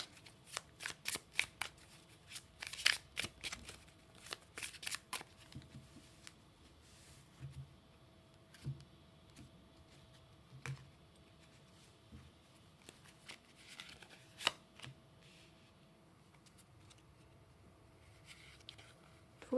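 Tarot cards shuffled in bursts of crisp riffles and soft flicks, close and clear, with quieter pauses between rounds and no talking.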